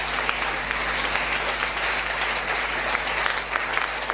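A church congregation claps and cheers in praise of the Lord, a loud, sustained wash of applause from a large crowd that carries on steadily without letting up.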